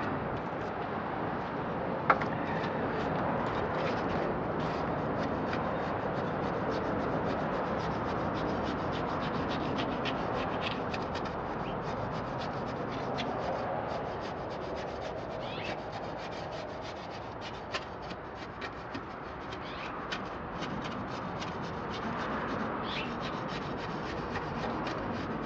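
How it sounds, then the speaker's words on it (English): Wet cement mix is worked by hand into a fountain base, giving continuous gritty rubbing and scraping at close range for a long stretch, with occasional sharp taps. "working it like this deep into the cement mix allows you to get really good"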